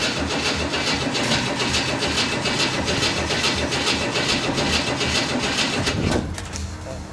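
A 1970 Chevy Nova container-find engine runs dry, holding a loud, steady rough idle that carries throughout before dipping slightly near the end.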